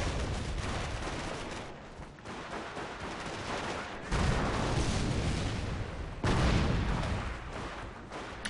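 Continuous artillery barrage in a video game, dense overlapping booms and rumbling blasts at steady loudness, with heavier surges partway through and near the end.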